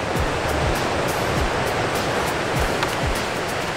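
Small, clean ocean surf on a flat day at a bodyboarding beach, heard as a continuous broadband wash of breaking water with soft low thumps of waves rolling in, loud and close with no voices.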